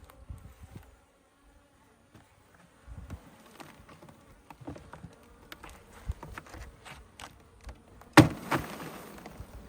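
A swarm of bees is dumped from a bush into a hive, giving a faint scattered buzzing with soft knocks and rustles. A louder thump near the end brings a swell of denser buzzing.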